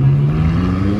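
A McLaren car passes on a Munich street, giving a brief, steady low engine drone that sounds fairly close and loud, with no voices.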